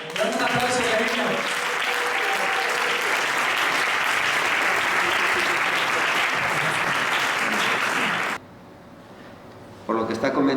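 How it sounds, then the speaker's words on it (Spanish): Audience applause during an interview with a pastor, loud and sustained for about eight seconds before cutting to near silence, then a brief return of sound at the end. "Dame un aplauso, cariño"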